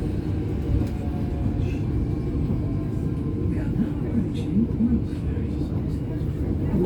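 Interior of a full passenger train travelling between Chester and Liverpool, a continuous low rumble of wheels and carriage noise with a voice speaking over it.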